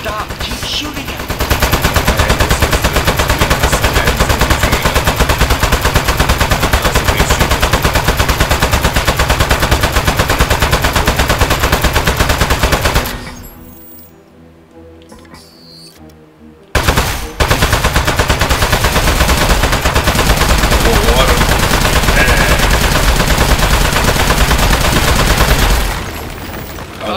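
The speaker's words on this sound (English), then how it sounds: "Don't stop. Keep shooting him." Rapid automatic gunfire in a video game, dense sustained bursts that stop abruptly for a few seconds mid-way and then resume just as loud and continuous.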